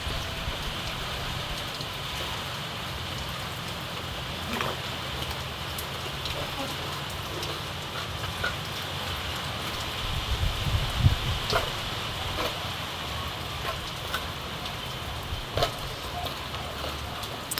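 Soft, steady rainfall patters on a terrace throughout, fairly faint, with a few scattered drips and bumps standing out.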